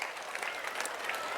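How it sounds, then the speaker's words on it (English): An audience applauding kids' performances at a school annual day celebration, a brief dense burst of clapping from a crowd. "I would like to request everyone to give them all a round of applause."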